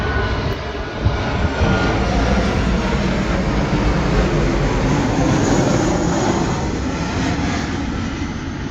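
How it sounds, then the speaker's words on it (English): A loud, steady roar of an airplane flying overhead, a broad engine rumble holding constant throughout with no voices, heard from a World Cat 280DCX boat. "Air traffic here is crazy."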